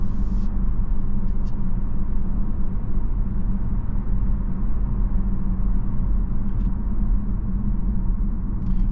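A 2024 Buick Envista Avenir with a 6-speed automatic cruising on the road, a steady low engine and road rumble heard from inside the cabin, continuous and even with no talking.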